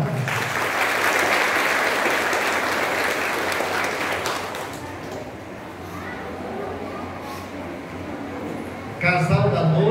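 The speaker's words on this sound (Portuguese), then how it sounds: "Com uma salva de palmas." A church festival audience celebrating Santa Rita de Cássia claps in a dense, loud burst for about four seconds, then the applause thins and fades, and a voice speaks briefly near the end.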